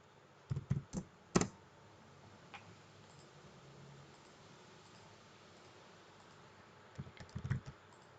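Quick clicks from a computer keyboard while typing words into a Google Docs document. One short burst of keystrokes comes early, then a quiet pause, then a second brief flurry near the end.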